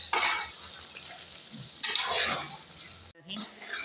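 Chicken masala frying in a pan while it is stirred until dry for a chicken and turnip curry, with scraping, sizzling bursts rising and falling, brief pauses, and a sharp break near the end.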